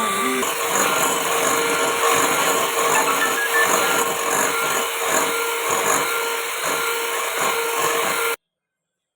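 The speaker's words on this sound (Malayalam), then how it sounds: "ഇത് നന്നായി ഒന്ന് ബീറ്റ് ചെയ്തെടുക്കാം" An electric beater whirs steadily through a kulfi cake mixture flavoured with vanilla essence, a continuous close motor buzz with faint rhythmic scraping that cuts off abruptly at the end.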